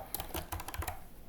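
Quick light keystrokes tap on a computer keyboard, a brief burst of about eight clicks in an irregular rhythm, close and quiet with no speech.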